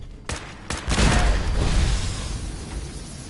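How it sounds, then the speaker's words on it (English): Several sharp blasts in quick succession, then a deep rumbling explosion that lingers and slowly fades, game-style detonations in the video game Fallout 4. "Bro, these explosions, I'm into it."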